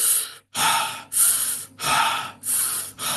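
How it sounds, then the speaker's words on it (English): Fast, forceful mouth breathing of a breathwork technique: about five quick, loud inhale-exhale cycles with short pauses between, close and alone with no talk. "that's a breathwork technique where you're just breathing really sort of at pace, like through your mouth"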